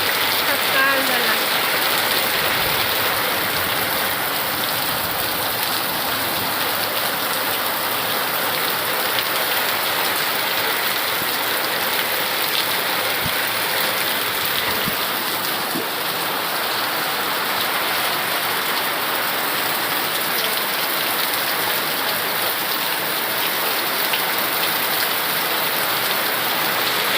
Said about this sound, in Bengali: দেখেন কেমন বৃষ্টি সকালবেলা।